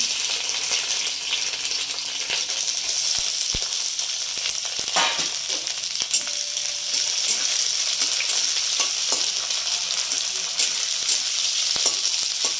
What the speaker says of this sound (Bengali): পেঁয়াজটা লাল লাল করে ভাজা হয়ে গেলে আমি মাছটা দিয়ে দেবো